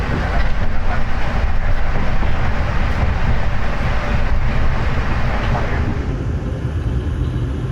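Tegal Bahari passenger train running on rails, heard from inside as a loud, steady rumbling roar with rattling that eases slightly toward the end.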